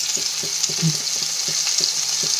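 Chopped chili frying in hot oil with cumin and asafoetida, a constant high sizzle with soft rhythmic stirring taps underneath, close and even, no speech.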